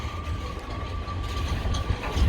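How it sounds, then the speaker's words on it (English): A long freight train rolls past at Peterborough, a steady heavy rumble of wagons with a faint sustained wheel tone and soft rhythmic clatter, close and continuous throughout without talk. "Oh, this is a long train."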